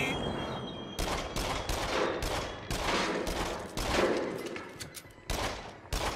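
Rapid bursts of gunfire from the shooter game Until Dawn: Rush of Blood crack out in clusters, sharp repeated shots close and loud, with short gaps between volleys and no talking.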